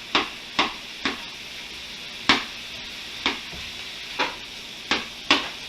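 Chunks of frozen rice dropped a little at a time into a hot pan for nasi goreng, each addition giving a sharp sizzling burst, about eight bursts at irregular intervals over a steady low frying hiss.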